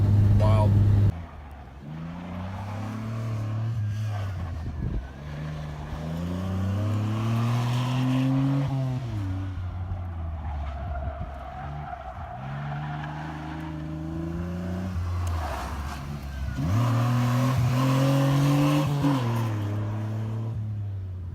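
Cars at an autocross track in Roswell lap nearby with engines revving and accelerating in repeated rising sweeps, loud and continuous, with a voice talking over them.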